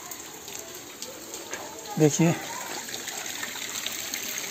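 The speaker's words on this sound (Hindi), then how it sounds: "लेकिन इस समय बारिश कुछ तेज़ हो गई है।" Heavy rain falls in a residential street, with rainwater running and pooling along the lane: a steady wet hiss throughout, and a person briefly speaks near the middle.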